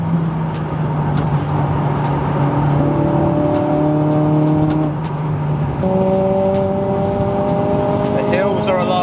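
Modified Honda Civic Type R FN2 with VTEC under way on hilly roads, a loud engine note climbing through the revs with gear changes, heard from inside the car while someone talks over it.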